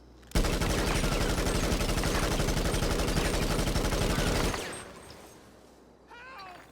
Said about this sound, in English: shooting in first person virtually like eliminates recoil